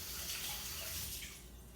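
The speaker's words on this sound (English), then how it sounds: "I'm going to run this knife under some cold water." A kitchen tap runs cold water over a knife in a steady, close gushing stream, a continuous splashing hiss that tapers slightly toward the end.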